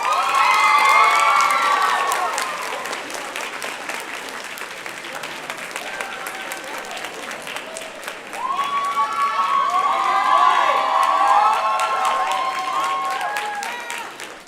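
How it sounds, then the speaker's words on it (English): A school assembly audience applauds and cheers for a staff member being honoured, with loud sustained clapping, shouts and whoops that dip slightly midway and then swell again. "So I would like to ask everyone to please give a warm welcome and big round of applause to our outstanding staff member for this assembly, Ms. Courtney Whyte."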